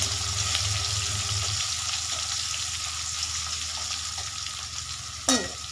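Garlic paste fries and is stirred in a pan for chicken curry, a continuous close sizzle with soft stirring scrapes and a sharp clatter near the end.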